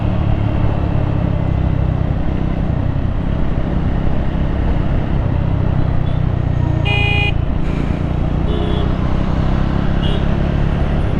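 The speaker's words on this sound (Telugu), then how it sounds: "ఇంకా లిటరలీ చాలా హెవీ ట్రాఫిక్ ఉంటుంది." Heavy highway traffic on a morning motorcycle ride from Hyderabad to Konaseema: a loud, constant roar of engines and wind, with a short car horn toot around the middle and another faint one later.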